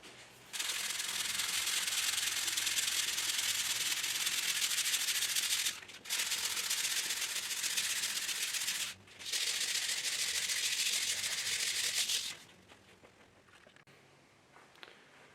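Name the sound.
hand sanding a wooden workbench with sandpaper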